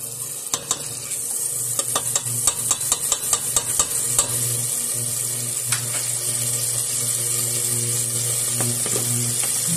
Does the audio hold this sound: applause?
no